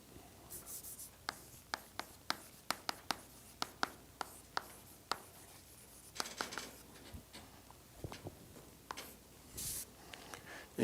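Equation written on a board in a lecture room, heard as a quick series of close, sharp taps and strokes, irregular and fairly quiet against a faint room hush.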